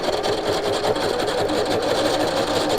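A sewing machine runs steadily, stitching fabric with shirring elastic to gather it, a close, fast, even mechanical whir with no pause and no talk.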